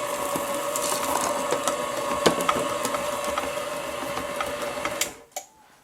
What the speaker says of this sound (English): while the mixer is on low, we're going to add a 1/2 cup of chopped pistachios and a cup of mini chocolate chips